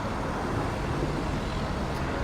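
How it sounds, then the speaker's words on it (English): Dense evening street traffic at Plaza Madrid square in Palma de Mallorca, a steady broadband rumble of passing cars at close range with no breaks across the whole stretch. "Busy, lots of cars,"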